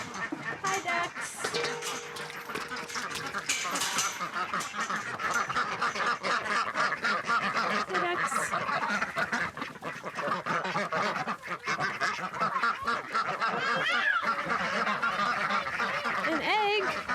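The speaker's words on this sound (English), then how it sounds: "Hi, ducks." Ducks and geese on a British Columbia homestead quack and honk in a steady busy chorus throughout, with scattered calls over constant outdoor background and a voice briefly speaking.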